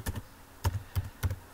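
Keys on a computer keyboard clack in short bursts of two or three quick taps separated by brief pauses, close and fairly quiet, with no voice.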